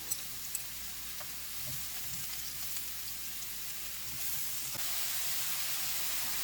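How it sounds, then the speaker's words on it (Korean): Mushrooms hit a pan coated with oil and start to stir-fry, giving a soft, steady sizzle and hiss that grows a little louder toward the end, with a few light clicks early on. "이제 팬에 기름을 두르고 버섯을 볶기 시작하겠습니다."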